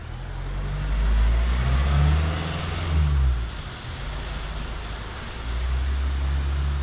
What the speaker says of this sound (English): The whistling of the turbo works beautiful.